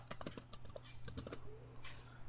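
Typing on a computer keyboard, with a run of light, quick key taps followed by a quieter stretch, close and soft over a steady low hum.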